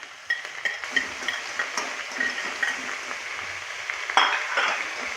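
Chopped onion, green chilli and curry leaves sauté in hot coconut oil: a soft, even sizzle broken by light scraping and clinking from a spatula stirring the pan.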